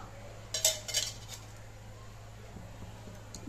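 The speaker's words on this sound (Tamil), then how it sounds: "ஒரு பாத்திரத்தை ஸ்டவ் மேலே வச்சு கொஞ்சமாக எண்ணெய் சேர்த்துக்கலாம்" A metal cooking pot set down on a kitchen stove before oil goes in, giving a couple of brief clinks and clatters near the start, then quiet room hiss.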